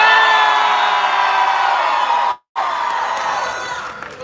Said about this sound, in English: we scream loud enough that the news thinks we're having an earthquake